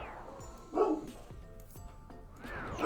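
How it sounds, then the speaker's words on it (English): Dogs bark and yip faintly in the background, a couple of short, muffled barks breaking through a quiet indoor room. "Sorry about the dogs."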